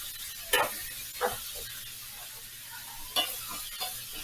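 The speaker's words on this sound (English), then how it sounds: "We're putting this garlic in here to let it kind of get mixed with the butter and get the flavor in the butter." Garlic sizzles in melted butter in a pan with a steady, soft frying hiss. A few brief clinks and scrapes sound over it, and nobody speaks.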